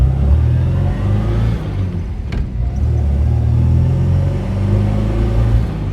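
A 1967 MG B roadster's engine drones and revs loudly after a downshift into second gear, a continuous throaty exhaust note that rises and falls, recorded close to the car while it drives along.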